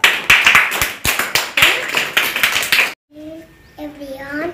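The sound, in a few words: children clapping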